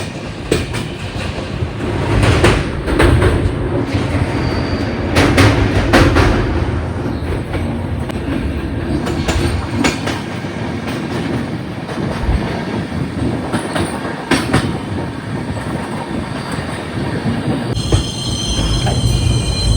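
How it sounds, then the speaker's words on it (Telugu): A passenger train with a Vistadome coach rolls along loudly between Araku and Visakhapatnam, wheels clattering rhythmically on the rails with occasional squeals, heard continuously from on board. "ఓ ట్రైన్ స్లో అయిపోయింది"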